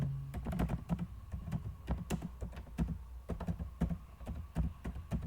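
Brisk keyboard typing while HTML list items are being entered, irregular clusters of close, crisp key taps with short pauses between bursts; no talking.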